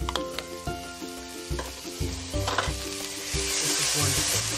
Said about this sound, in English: Let's saute our garlic and our onion.